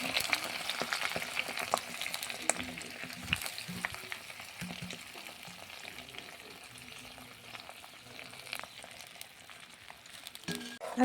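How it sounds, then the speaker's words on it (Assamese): Aloe vera pieces frying in hot oil in a pan, a steady soft sizzle with occasional stirring clicks throughout, moderately quiet and close, with no talking. "এইপিনে মই তেলখিনি গৰম হৈ যোৱাৰ লগে লগে এলোভেৰাখিনি ইয়াতে ঢালি দিলোঁ"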